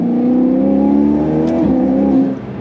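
A Ferrari 488 Pista fitted with a Novitec Inconel exhaust runs loud and close, a steady deep engine tone holding then dipping briefly and easing off near the end, with no voices over it.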